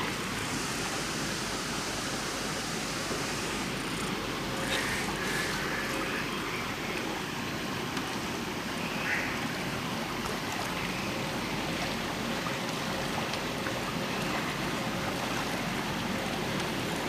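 Steady churning, bubbling water noise from a bubbling acid effect on a Drayton Manor theme park ride fills the whole stretch, like liquid rushing and frothing nearby, with a constant broadband wash and no voices.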